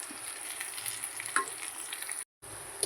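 Stuffed ridge gourd pieces fry quietly in a covered pan just after being turned, a soft, steady sizzle with a faint clink and a brief dropout near the end, and no talk.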